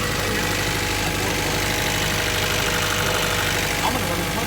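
A Honda Civic engine idles roughly with one fuel injector unplugged, a loud, close, continuous mechanical drone with uneven knocking pulses throughout.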